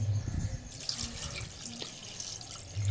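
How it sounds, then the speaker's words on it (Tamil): Water runs from a tap into a pot of duck meat, a steady close splash and gurgle that stays alone with no talk. "கறி நனைகிற வரையிலும் தண்ணி ஊற்றிக்கங்க"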